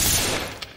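A suppressed automatic rifle fires a rapid burst in the tactical shooter Ready or Not, a loud, dense crackle of shots that fades over under a second with one last sharp report near the end.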